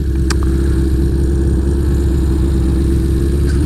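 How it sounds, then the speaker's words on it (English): A 1975 Honda CB550 with an air-cooled piston engine runs loud and close, its steady low throbbing drone held at a constant pace throughout with no one talking. "very similar to an old aircraft engine, air-cooled piston engine."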